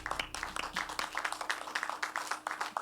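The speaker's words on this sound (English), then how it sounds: "Please encourage her by clapping" Audience applauding a student speaker at a children's competition in Lagos, a dense, even crowd of clapping hands heard at moderate distance, steady for the whole stretch with no voices on top.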